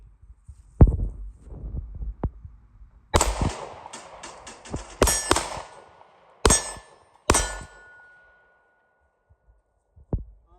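Rounds from a ported Glock 43x strike steel plate targets, giving several sharp ringing clangs spaced a second or so apart, some with lingering metallic ring, with quiet gaps between bursts.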